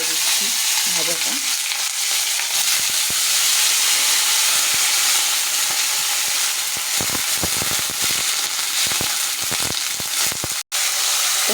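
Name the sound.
frying food sizzling in hot oil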